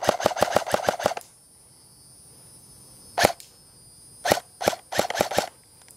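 An airsoft or toy gun mechanism reloading while a button is held, giving a fast burst of sharp mechanical clicks and then, after a pause, a single click and several more rapid clicks, close and with no talk.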